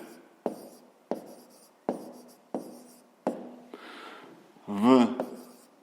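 Pen strokes on paper while working a fifth-grade maths exercise, a run of short scratchy scribbles in bursts, close and clear, ending with a louder rustle.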